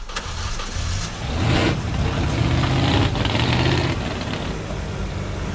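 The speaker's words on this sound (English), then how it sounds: "Ladies and gentlemen, start your engines." Car engines start up and idle together at the launch of a charity drive event, a steady loud mid-range rumble that swells after the first second and holds as a dense, continuous drone.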